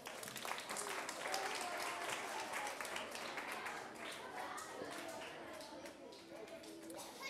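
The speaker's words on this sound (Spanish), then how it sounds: "Un aplauso, Antonio." Audience applause for a volunteer at a live school science show, a dense continuous patter of clapping from a crowd that fades slightly toward the end.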